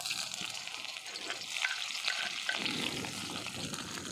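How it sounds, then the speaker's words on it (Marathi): Chopped chillies sizzle and crackle in hot oil, a steady bright frying hiss with soft bubbling underneath, fairly quiet and close. "तेल चांगलं गरम झालंय आता चिरून घेतलेल्या मिरच्या टाकू त्याला"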